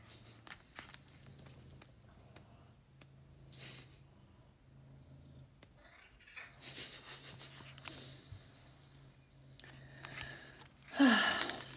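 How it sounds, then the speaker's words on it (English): A cat purrs up close in a steady low rumble, mixed with rustling and handling noises as it moves about, with a brief faint voice near the end. "Can you hear him purring?"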